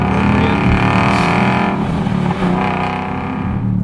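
A Ford Mustang GT with an MRT Interceptor cat-back exhaust and DMS cruises at about 60 miles an hour, giving a loud, steady, throaty drone with a rich low rumble that holds throughout.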